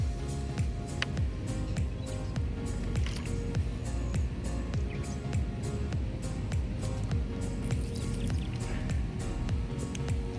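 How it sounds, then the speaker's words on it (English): Water poured onto pavers and soaking in, a steady soft trickle and wet squishing with faint dripping, continuous and close. "one foul-proof way to check and see if it's sealed is you want to pour water"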